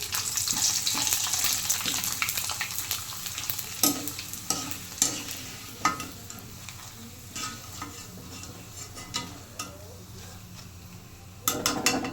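Thin, homemade potato chips fry and sizzle in hot oil, giving a steady crackling hiss broken by scraping stirs and clinks of a spoon against the pan, close to the microphone.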